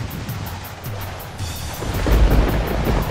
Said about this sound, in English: Commander, the storm's getting worse.